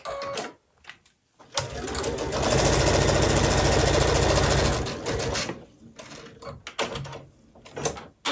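A sewing machine stitches a seam joining quilt binding strips, running in one steady, loud burst of rapid needle chatter for about three seconds, with quieter fabric handling and soft clicks before and after.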